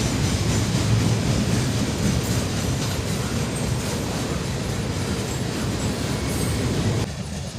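A long freight train rolls across a bridge, its wagons producing a loud, continuous rumble with rhythmic clatter from the wheels, easing slightly in the final moments as the last cars pass.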